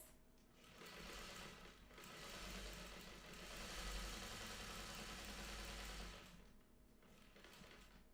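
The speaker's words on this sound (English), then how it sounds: "And I'm going to sew it just like this." A vintage sewing machine stitches quilt pieces in a steady, quiet mechanical whir that speeds up and slows over several seconds, with no talking.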